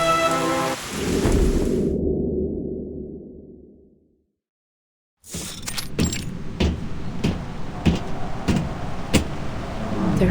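A thunderstorm rolls through in the game Reverse: 1999, with steady rain and a deep thunder rumble fading out to a brief silence, then hard rain returning with sharp repeated crackles and clatters.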